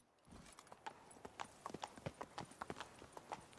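Hooves of Geralt's horse Roach clip-clop at a walk in The Witcher 3, an uneven patter of soft, close thuds and knocks over a faint ambient background.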